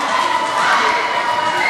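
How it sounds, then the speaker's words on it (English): A wrestling arena crowd roars and cheers in a dense, sustained wash of voices, loud and steady throughout the short stretch with no distinct talker on top. "The fans are going crazy"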